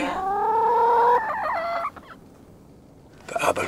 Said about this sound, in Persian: مرغ و خروس میبینم